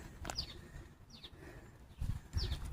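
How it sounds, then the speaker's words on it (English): Crows give several faint, short calls at intervals outdoors, with soft rustling and low background noise between them. "Oh, I hear the birds."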